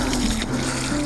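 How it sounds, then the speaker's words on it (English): Water poured onto newly planted allotment plants, a steady close splashing and trickling with no voices. "And then we'll just give them a bit of water."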